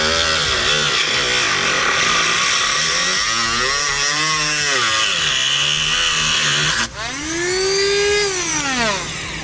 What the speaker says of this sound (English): Use a rotary tool here and we'll make our cut.